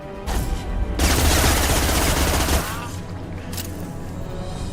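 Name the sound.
gunfire in the video game Mass Effect 2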